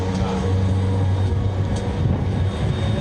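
A steady low mechanical drone with a constant hum, loud and continuous, like a hovering drone's motors droning throughout.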